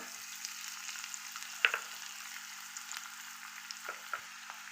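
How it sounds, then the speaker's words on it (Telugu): A soft, steady sizzle of crushed garlic frying in a little tempering oil, with a few faint clicks of a spoon against the pan. "ఈ దంచుకున్న దాన్ని కూడా ఆ తాలింపులో వేసేసుకుందాము"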